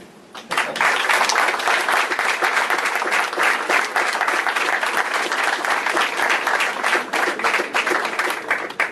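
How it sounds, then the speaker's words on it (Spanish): An audience at a tribute event for the philosopher Luis Villoro breaks into applause in homage, loud dense clapping starting abruptly after a quiet moment and continuing steadily to the end. "vámosle dando un aplauso de homenajeados, si son tan amables"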